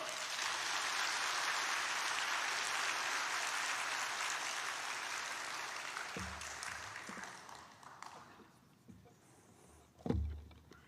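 A church congregation applauds at a welcome for an elder, a dense, steady clapping that fades out, followed by a few scattered thuds and bumps.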